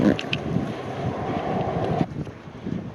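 Steady, broadband wind of about 20 knots roaring across the microphone at a boat dock as rain comes in, with rushing water and gusts buffeting throughout, briefly dropping near the end.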